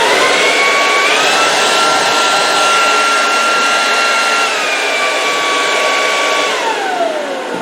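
Electric two-speed blower vacuum mulcher power unit with a 12-amp motor, running alone at close range as a steady loud whine that shifts pitch up, holds, then winds down near the end.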